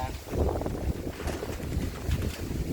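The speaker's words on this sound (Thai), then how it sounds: "โอ้ลมแห้งเลย" Dry wind blows outdoors, a continuous rough rumble of gusts buffeting the microphone, fairly loud throughout with faint background sounds.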